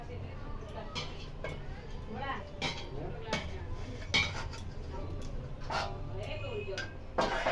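Fried vegetables tipped into a pan for vegetable fried rice, with repeated metallic clinks and scrapes of a utensil against cookware, while someone talks throughout.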